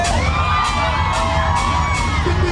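A crowd at a live concert in Houston cheers and whoops in a dense, continuous roar, with shouts rising above the mass and a musical tone running underneath, loud and close throughout.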